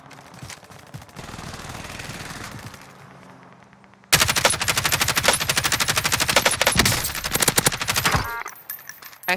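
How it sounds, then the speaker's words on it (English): Video game gunfire: a stretch of muffled, distant shooting is followed by loud, close bursts of rapid automatic fire that rattle on for several seconds before tapering off, with no voices. "They're getting shot up on the hill."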